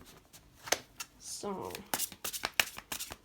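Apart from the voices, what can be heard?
shuffling large tarot cards by hand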